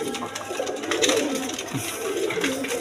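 Pigeons coo and scuffle in a coop, a dense near chorus of low throaty coos with fluttering and rustling, steady and continuous throughout.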